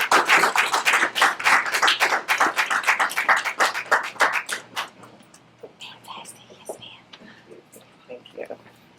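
An audience at a community gathering gives a warm round of clapping for an incoming speaker, dense and close for about five seconds before thinning out into scattered claps and quiet murmurs.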